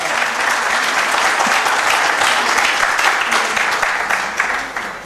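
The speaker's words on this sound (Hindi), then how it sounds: "जोरदार तालियां मासी के लिए।" Loud, sustained applause from the audience at a mehfil-e-mushaira music and poetry evening, a dense continuous wash of clapping that holds steady for several seconds before easing slightly at the end.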